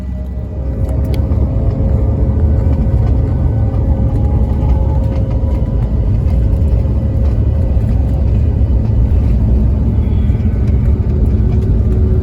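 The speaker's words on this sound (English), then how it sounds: "Just sat here waiting to go out onto the runway." A steady, loud low rumble fills an airliner cabin as the plane sits waiting to taxi onto the runway for a Knoxville to JFK flight, constant and unbroken throughout with no talking.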